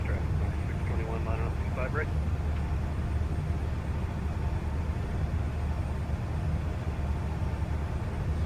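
Embraer E190 airliner in Microsoft Flight Simulator taxiing on the ground, a steady broadband jet engine rumble and hiss that holds constant throughout, with a brief bit of speech early on.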